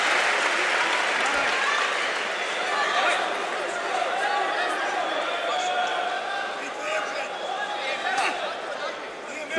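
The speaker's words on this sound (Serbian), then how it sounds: "Aplauz za Kadića." Crowd applause at a kickboxing fight night event (Hektor Fight Night 4, Dario Kadić bout) fills the arena as a steady, dense wash of clapping and cheering, with a commentator talking over it.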